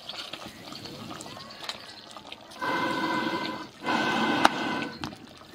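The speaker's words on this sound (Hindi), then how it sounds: "इसमें पानी डालेंगे।" Water is poured into a pot of mutton curry cooking outdoors over a village fire, heard as two bursts of rushing, splashing liquid amid background clatter and voices.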